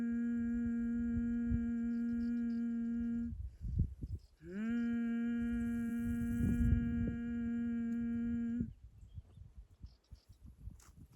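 A steady sung hum held through the breath during a Kundalini yoga breathing exercise, with two long sustained tones separated by a brief break and breath, close and clear.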